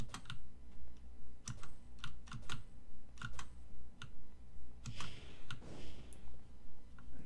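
Rapid mouse clicks tick sharply in irregular bursts throughout, close and crisp, over a pulsing background hum while playing Might and Magic VI.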